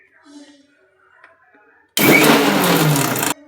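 A mixer grinder whirs loudly as it blends mint, green chillies, garlic and ginger into a paste, a steady motor roar lasting about a second and a half after quiet talk in the kitchen.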